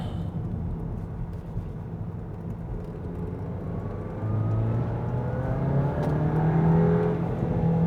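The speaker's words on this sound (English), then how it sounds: "I thought I was flooring it this whole time. That was flooring it." A Volkswagen Mk8 GTI accelerates at full throttle, heard from inside the car as a steady engine drone that swells and climbs in pitch over several seconds.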